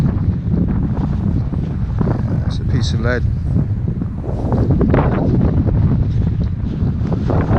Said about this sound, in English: Excuse the wind again.